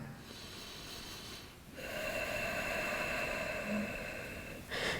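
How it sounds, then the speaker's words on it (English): Slow, deep breaths during a relaxing yoga session for a stiff back: a soft airy exhale at first, then a fuller, steady breath sound that swells and holds close to the ear, with a brief sharper intake near the end. "Find your last inhale and exhale"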